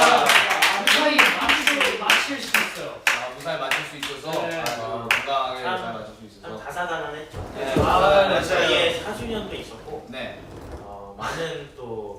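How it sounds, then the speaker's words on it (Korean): A small group of K-pop idols clapping their hands together in celebration, a burst of quick close claps mixed with laughter and chatter, then voices talking over scattered claps. "그걸 기념하기 위해서 이제 저희가 박수를 치는 겁니다."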